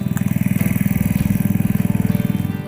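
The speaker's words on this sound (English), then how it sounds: "Mark Kleiss from Springfield, Illinois, having a good time driving his Springfield tractor." A Springfield garden tractor engine runs close by in a fast, even chugging pulse, a loud steady low putter with faint clatter above it.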